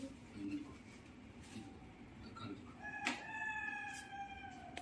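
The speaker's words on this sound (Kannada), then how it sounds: "ಕೋಳಿ ಇದು" A rooster crows in the pre-dawn hours around 3 a.m., its drawn-out harmonic call rising over steady room noise in the second half, moderately close.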